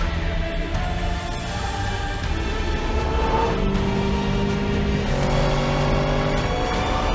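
Supercars including a McLaren, a Nissan GTR and a Lamborghini Aventador roar down a drag strip, a loud sustained engine drone with rising revs and gear-change shifts, heard alone without talk.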